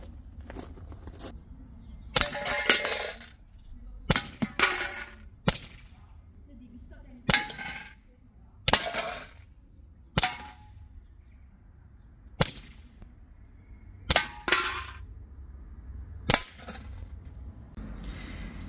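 A Walther PPK/S CO2 air pistol fires about a dozen sharp, close shots at cans set ten meters away, spaced a second or two apart, some followed by faint metallic impacts.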